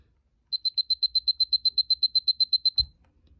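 Alarm demo on a Seiko A259-5019 digital watch: a quick, evenly spaced run of about eighteen sharp, high electronic beeps, loud and clean. A soft thump follows as the beeping stops.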